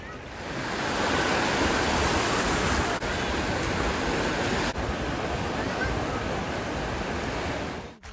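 Ocean waves breaking on the beach at Warrnambool, a loud continuous roar of surf that fills the whole stretch and fades out at the end, with no voices.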